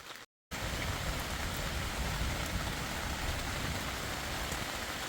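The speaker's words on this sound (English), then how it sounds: "Got a few sprinkles at midnight, but the rain started for real at 3 a.m." Steady rain falls heavily and continuously on the Appalachian Trail, a dense hiss of drops on surfaces after a brief silent gap at the start.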